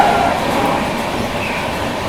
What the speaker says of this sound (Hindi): अभी अपनी ट्रेन के ऊपर से निकलेगी नागपुर मेट्रो, ये देखो।